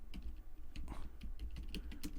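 Python code being typed on a computer keyboard makes quiet, close key clicks in a quick, uneven patter that continues steadily throughout, with no voice.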